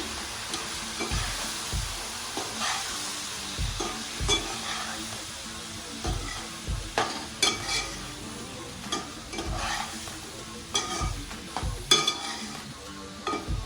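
Tamarind leaf powder mixture stirred in a pan with a spoon, giving repeated scraping strokes in a steady rhythm over a soft, continuous sizzle, close and moderately loud with no talking.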